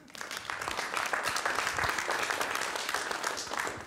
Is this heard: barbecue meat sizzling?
no